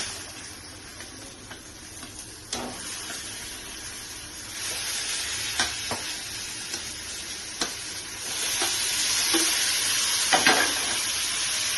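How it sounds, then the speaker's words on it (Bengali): Hilsa fish pieces and brinjal frying in a pan for a curry, a steady sizzle that grows louder partway through, broken by occasional sharp spits and utensil clicks. "দিয়ে আমি এখন মাছগুলো আর বেগুন দিয়ে দিচ্ছি।"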